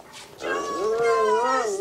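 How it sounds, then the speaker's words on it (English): A dog whimpers in a long, wavering whine that rises and falls for about a second and a half, close and fairly loud over faint background sound. "You named this dog Jonas?"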